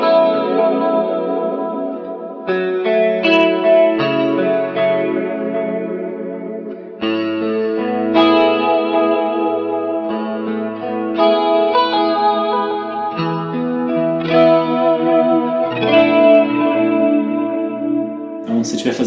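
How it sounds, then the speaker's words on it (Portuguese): Electric guitar through a Mooer GE200 with chorus and modulation reverb plays clean picked notes and chords, shimmering and echoing, loud and close across a steady accompaniment passage. "esse efeito de chorus ele é muito indicado"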